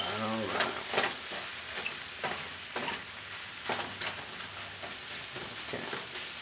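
Tomatoes, tomato paste and onions sizzle in a pan for a vegan sofrito, making a soft, spattering fry with scattered crackles and stirring scrapes as people talk over it.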